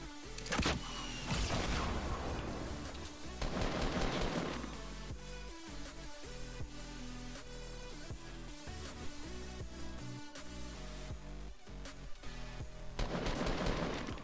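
Rapid bursts of video-game gunfire at a fort in Fortnite crackle densely and loudly almost without pause, with heavier blasts at the start and end.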